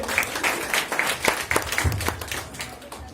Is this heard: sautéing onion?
no